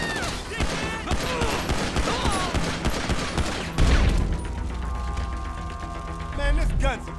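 Gunfire from a modded Grand Theft Auto V session, dense rapid shots and impacts rattling for several seconds, then a couple of heavy booms with lingering game tones, loud and close.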